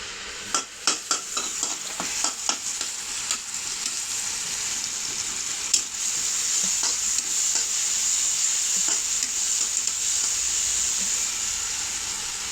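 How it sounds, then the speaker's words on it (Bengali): Bottle gourd fries in a pan while a utensil stirs it, several quick scraping strokes at first, then a steady loud sizzle and hiss that carries on alone. "গাছের লাউ রান্না করছি, আর ওই মাছ আছে, রুই কাতলা মাছ।"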